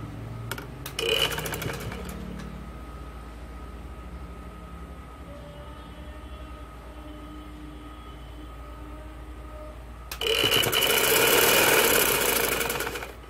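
Sewing machine stitching a folded kurti hem: two bursts of fast mechanical whirring, a short one near the start and a longer, louder run near the end, with quiet humming between.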